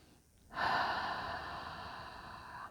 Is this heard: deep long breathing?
yes